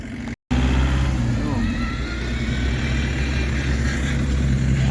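A classic MG Maestro with cheese grater wheels drives past at a British Leyland car show, its engine a steady close rumble with a brief dropout near the start. Voices talk over the engine noise.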